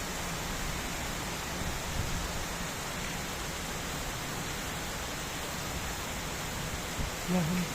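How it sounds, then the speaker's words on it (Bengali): Steady, dense hiss of rain falling without pause, fairly loud and close, with a faint low thump near the end. "নারকেল গাছগুলো বাতাসে দোল খাচ্ছে বৃষ্টি পড়তেছে"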